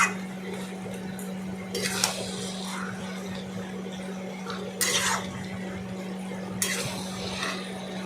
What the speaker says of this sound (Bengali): এবার সেটাকে ভালো করে নাড়াচাড়া করলাম।